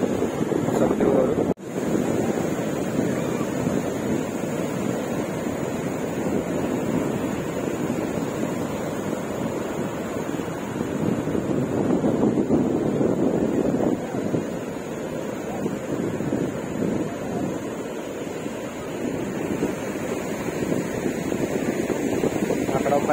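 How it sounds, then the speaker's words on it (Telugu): Sea waves at Kesanapalli beach in Konaseema roll in as a continuous broad wash of surf, heavy with wind buffeting the microphone, and a sharp knock comes early on. "బీచ్ సౌండ్, సముద్రం ఓరు సౌండ్ అయితే ఎంజాయ్ చేయండి."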